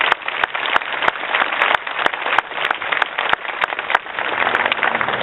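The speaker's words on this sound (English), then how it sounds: "Would you give the highest-ranking law enforcement official in the county of Los Angeles a big round of applause, Sheriff Lee Baca." An audience applauds Sheriff Lee Baca of Los Angeles County at a sheriff's station event in South Los Angeles: a steady, dense wash of clapping that stays loud throughout, with sharp individual claps standing out; no talking.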